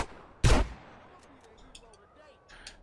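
A single loud gunshot cracks near in a GTA video game, followed by quieter distant shots and faint game ambience.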